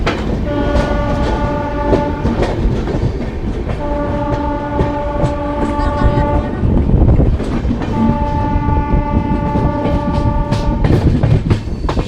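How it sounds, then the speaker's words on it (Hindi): The Sarbat Da Bhala Express pulls out of Jakhal Junction, its horn sounding in three long blasts over loud, continuous rumbling and wheel clatter from nearby. "जाखल जंक्शन से डिपार्ट होती हुई हमारी सरबत दा भला एक्सप्रेस ट्रेन"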